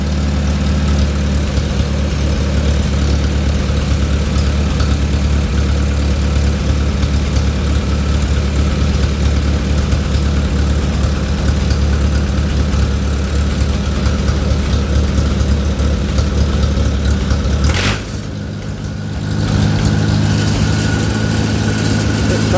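An old tractor engine idles with a steady, heavy low rumble for a long stretch, briefly dipping and cutting out before starting to run again.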